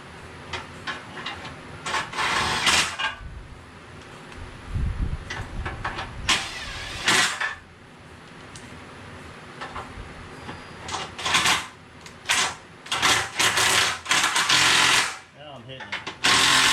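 Bolts run in with a power tool while installing a train horn on a Toyota Camry: loud bursts of mechanical whirring and clanking in short irregular spurts, close by, with pauses and handling noise between them.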